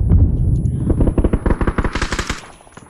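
Rapid bursts of automatic gunfire in a shooter video game, loud and close, hammering in a fast rhythm that thins out and fades toward the end.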